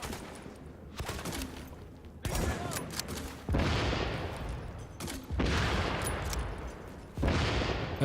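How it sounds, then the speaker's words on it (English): Grenade launcher blasts and rattling gunfire in The Division erupt in repeated loud bursts, each explosion trailing into a noisy decay before the next volley hits. "Again, the grenade launcher."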